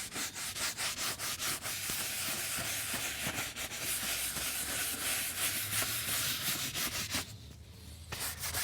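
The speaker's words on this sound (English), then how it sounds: "I'm just gently scrubbing the leather and I'm letting the brush do the work." A brush scrubs a leather car seat in steady, continuous back-and-forth strokes, close and fairly loud, with a brief pause near the end before the rubbing resumes.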